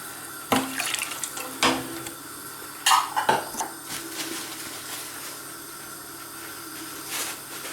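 Water swished inside a tomato puree container for a sweet and sour sauce, splashing and sloshing with a few knocks of the container in the first half, then a softer running-water hiss.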